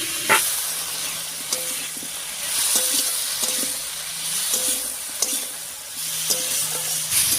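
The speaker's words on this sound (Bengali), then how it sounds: "টমেটো দিয়ে আলু আর মশলার সঙ্গে খুব ভালো করে নাড়িয়ে নিয়েছি, মিশে গেছে সব কিছু।" Potatoes, tomato and ground spices being stirred in a hot pan, with a steady sizzle of frying under repeated scraping strokes of a spoon against the pan, close and moderately loud, no voices.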